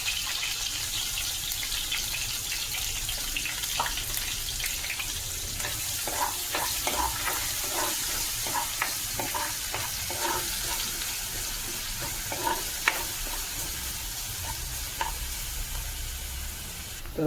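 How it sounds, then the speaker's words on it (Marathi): Finely chopped ginger, garlic and green chili fry in hot oil in a kadhai for street-style egg rice, a continuous close crackling sizzle with scattered spatters and light stirring scrapes throughout. "ही आलं, लसूण आणि मिरची बारीक केलेली ती घालूया."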